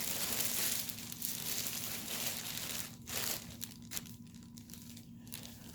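Brand-new plastic wrapping from a 3M Filtrete FAP-C01 air purifier crinkles and tears nearby as it's pulled off, a steady rustle with sharper crackling bursts toward the end, no talking.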